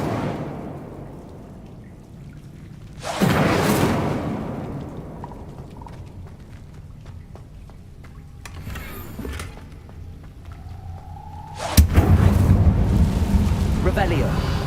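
An Incendio fire spell cast in the Hogwarts Legacy video game, with two loud whooshing bursts of flame, one early and a stronger one near the end, over a steady rain-like ambient bed.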